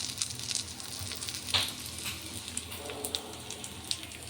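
Ghee sizzles on a frying pesarattu, a mung bean dosa, on a hot pan, a soft, steady crackling hiss with scattered small pops, fairly quiet and heard alone.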